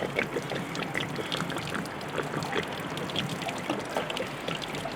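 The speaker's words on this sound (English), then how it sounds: "I've got to take out the drain plug for the water heater here." Water drains steadily from the drain plug of a caravan water heater, a continuous trickling, splashing pour at close range. It runs without a break at low to moderate level, and no one speaks.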